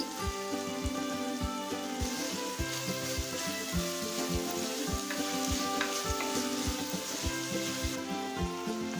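Ginger-garlic paste and tomato sauté in a pan for Chettinad chicken kuzhambu, a loud continuous sizzle broken by regular knocking taps of a stirring spoon.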